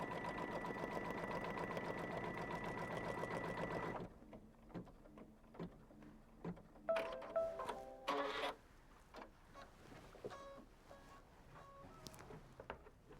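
A Kimberbell embroidery machine hums steadily while stitching a tack-down basting line around a quilt pouch, then stops, followed by scattered clicks, a few short beeps and quiet handling noises.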